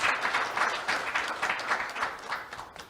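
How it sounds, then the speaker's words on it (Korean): Audience applause in a hall at an AI convergence education talk concert, a steady wash of many hands clapping at moderate distance, with faint voices underneath. "박수로 맞이해 주시기 바랍니다."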